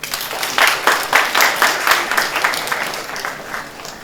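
An audience at a university session on AI and media gives a burst of applause, dense clapping that rises quickly and continues steadily for a few seconds before thinning slightly.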